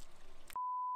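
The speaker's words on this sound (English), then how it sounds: "It's a notification." A single short electronic beep, steady and clear, sounding for under half a second after a burst of noise.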